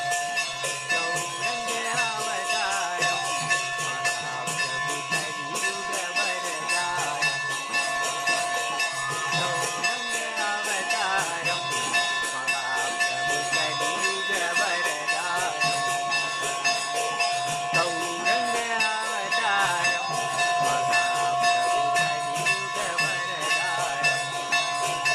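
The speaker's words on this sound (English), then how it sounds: "So the rhythm and then the temple bell will also go along with the singing." A temple bell rings continuously at a rapid, steady pace during arati in Navadvipa, layered with devotional singing and a dense, loud wash of ringing tones throughout.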